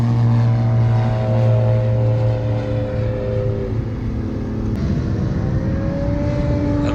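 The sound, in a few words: Yee Haw 7 model airplane taking off from runway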